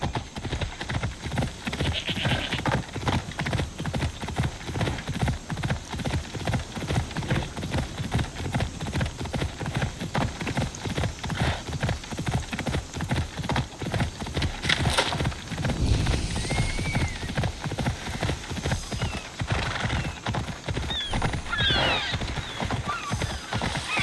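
Horse ridden at a steady pace in Assassin's Creed Odyssey, hooves clip-clopping in an even, continuous rhythm close up, with an occasional whinny and no talk.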